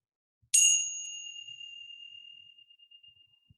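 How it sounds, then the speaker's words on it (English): A single bell strike rings out clear and bright, then its tone slowly fades away over a few seconds in an otherwise quiet room. "I'm going to ring a bell, and when you can't hear the sound of the bell anymore, place your hands on your belly"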